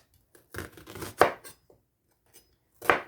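A knife chops a shallot on a board for a Thai chicken and green mango salad, a few close, crisp cuts in quick succession, then a pause and one more firm chop.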